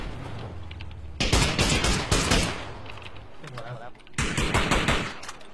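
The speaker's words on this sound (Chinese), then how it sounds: "打了一枪" Bursts of rapid gunfire, two loud volleys of quick repeated shots separated by a quieter gap with faint background sound.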